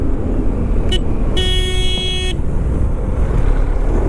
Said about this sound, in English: didn't even see me until I honked